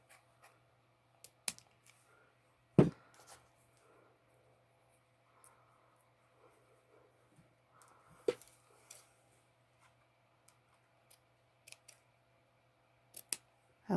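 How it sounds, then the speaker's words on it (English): Scissors cut blue ribbon during a handmade baby journal craft, giving faint, sharp snips scattered unevenly over about fourteen seconds, close and quiet with no talking. "I'm gonna cut this blue ribbon"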